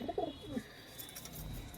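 Kept pigeons giving short, soft cooing notes in the first half-second, then faint background hiss and murmur.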